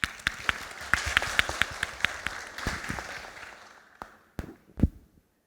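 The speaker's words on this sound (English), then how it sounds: "please give a warm applause" A small audience at a talk on artists in migrant communities claps to welcome a presenter, with sparse, distinct handclaps thinning out toward the end into a few isolated claps.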